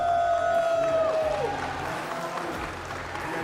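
A crowd applauds steadily for the runner-up at the awards ceremony of the 2024 Pokémon GO Peoria Regional Championships, a sustained wash of clapping from the audience, with a brief high tone at the start.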